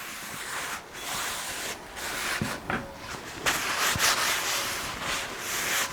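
Cloth wiping excess oil off a cast iron pan during seasoning, heard as close, uneven rubbing and swishing strokes with short pauses between passes.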